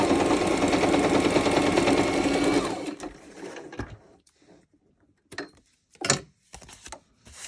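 Sewing machine stitching through fabric while a paper-cut tea cafe piece is assembled, running steadily and loudly for under three seconds, then stopping, followed by a few faint clicks and handling sounds.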